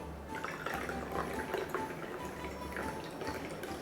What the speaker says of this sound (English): Now we'll take our Starbucks and give it a nice fill.